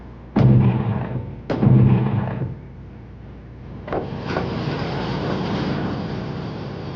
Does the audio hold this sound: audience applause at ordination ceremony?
no